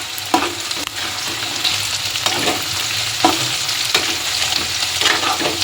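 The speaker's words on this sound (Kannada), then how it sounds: "ಶೇಂಗಾ ಹಾಕ್ಬೇಕಾ ಇದನ್ನು ನೀಟಾಗಿ ಫ್ರೈ ಆಗಬೇಕು" Peanuts frying in oil for Kalaburagi-style chivda, a continuous close sizzle broken by regular scraping stirs and small clatters against the pan, with no talking.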